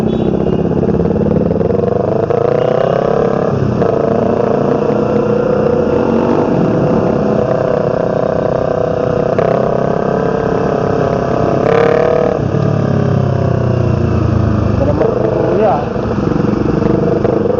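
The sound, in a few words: motorcycle engine passing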